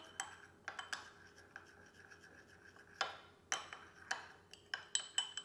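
Spoon stirring a glass of homemade energy drink of apple cider vinegar, koso, spices and water, giving a string of light clinks and scrapes against the glass, close and fairly quiet, irregularly spaced.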